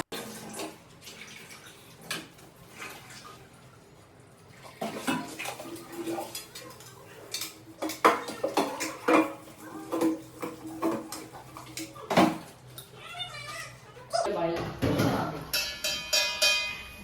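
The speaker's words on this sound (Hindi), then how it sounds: "आगे का काम बर्तन धोने का चलो बर्तन धोवा ही घणो" Dishes, pots and steel utensils clatter and clink continuously while being washed by hand, with running water, scraping and knocks in a home kitchen, close and busy, growing louder midway.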